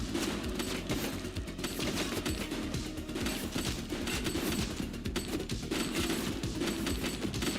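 Sustained automatic gunfire in the police game The Precinct, dense rapid bursts of shots running continuously and loudly with no talk over them.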